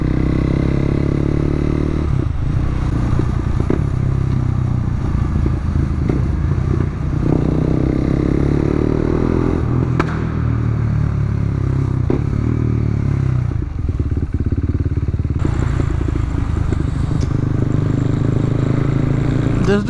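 Motorcycles and cars pass through a roundabout, their engines droning and revving steadily for the whole stretch, with faint clatter and scraping mixed into the continuous traffic noise.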